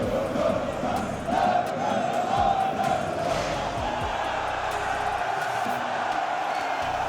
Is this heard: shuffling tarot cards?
no